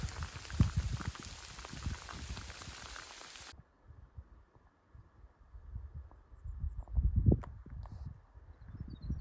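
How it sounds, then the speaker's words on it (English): Rain patters steadily on a mountain trail in the Catskills, New York, with soft irregular drops and low thumps, faint and close, with a brief quieter stretch in the middle. "Well, now the rain's starting."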